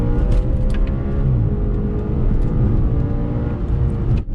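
The 4.2-litre V8 of an Audi RS4 B8 estate runs with a loud, steady deep rumble, a constant engine drone with slight swells and no talking.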